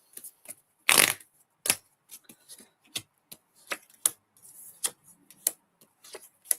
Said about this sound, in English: Oh, I'm throwing cards.